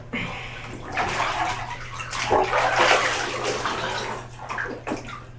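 Water sloshes and splashes in a bathtub, a steady wash of churning and spattering with a few sharper splashes near the end, close by and without talk.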